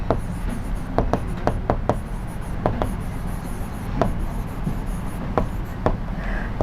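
Marker or chalk writing on a board during a maths class, sharp scattered taps and strokes over a steady room hum, with no speech.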